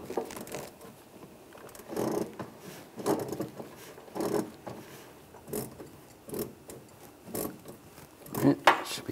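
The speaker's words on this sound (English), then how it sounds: "Now I'm gonna loosen up the filler neck, the worm clamp. Use a 7 millimeter socket." A ratchet with a 7 mm socket loosens the worm clamp on the fuel filler neck of a 2011–2018 RAM 1500 3.6L, making repeated soft clicking strokes in an even rhythm, fairly quiet and close.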